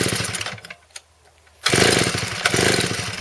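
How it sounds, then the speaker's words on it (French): A salvaged Stihl 041 AV chainsaw with a suspected fuel-feed problem sputters briefly, goes quiet, then catches and roars into a loud, steady run close by. "On va réessayer."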